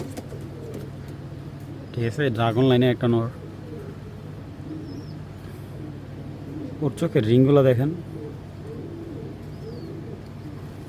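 A male racing pigeon of an old racing bloodline coos in two throaty, rolling bursts a few seconds apart, close and fairly loud, with someone talking nearby.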